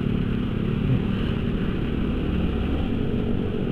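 Motorcycles riding on a road, heard from on board as a steady, loud engine drone with road and wind rumble, unbroken and without talk.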